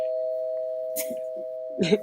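A doorbell rings with a sustained electronic tone, with brief rustling and a short burst of movement or voice toward the end.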